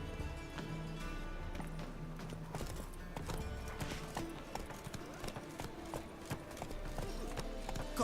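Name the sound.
horse Roach trotting in video game Witcher 3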